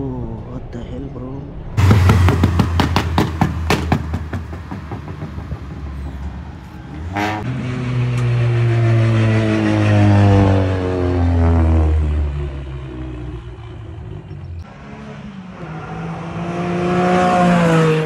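A BMW 320d diesel accelerates on a race track: a loud, close engine drone climbs steadily in pitch through the gears, with a brief dip at a shift, and someone talks over it at times.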